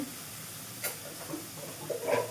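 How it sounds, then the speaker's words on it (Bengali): Beef curry spice masala frying and being stirred in a pot with water, salt, ginger-garlic paste and garam masala, giving a soft, steady sizzle with occasional spoon scrapes and small louder bursts near the end. "এখন আমি ভালো করে মশলাটা কষাবো।"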